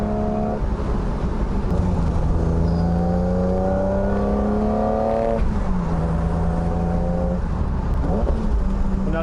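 A modified BMW 3 Series E36 engine under way, loud and close, with a continuous drone whose pitch climbs steadily through a gear, drops at a shift, then climbs again over steady road noise.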